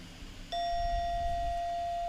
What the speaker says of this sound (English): and I have a little bell that will sound